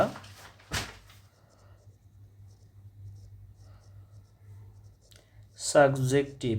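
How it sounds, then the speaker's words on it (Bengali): Soft, faint scratching of handwriting grammar notes during a class, a quiet stretch of writing between brief bits of a teacher's speech. "গ্রামারটা একটু লিখছি।"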